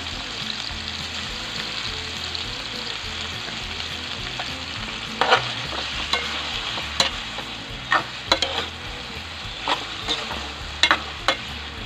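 Pork hock dropped into a hot pan, giving a continuous sizzle with repeated sharp clanks and scrapes of stirring in the second half, close and loud with no talk.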